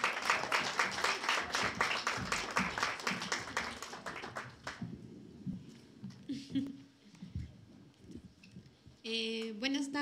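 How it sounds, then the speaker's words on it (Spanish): Applause welcoming a speaker at a panel discussion, a loud burst of clapping from the audience that fades out midway, followed by quieter room noise, shuffling and a brief tonal sound near the end. "le recibimos también con un fuerte aplauso"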